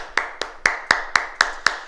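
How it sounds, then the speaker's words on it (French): Members of a martial arts class clapping in unison, seven sharp, evenly spaced claps at a brisk beat, close and distinct against a quiet room. "Et on s'applaudit, mesdames, messieurs."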